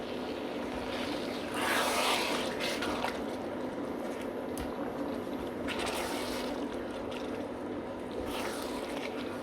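Water pours into a pot while cooking lamb vindaloo in an Indian kitchen, a soft splashing gush in two bursts separated by quieter stirring and dripping, heard close but at low volume.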